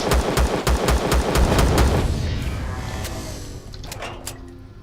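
Rapid bursts of automatic gunfire in a video game strike a player's base on a minimalistic hover vessel, loud and close for about two seconds, then fading into scattered single shots and lingering echo.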